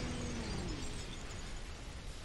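A Dark Souls explosion lands as a dense, booming rumble that fills the short moment and tails off slightly, fairly quiet overall with no voices.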